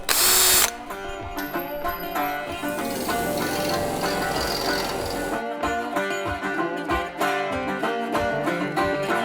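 A power drill whines steadily through rusty metal on a 1972 Chevy Nova firewall for several seconds, the motor pitch wavering under load with sharp ratcheting bursts near the end.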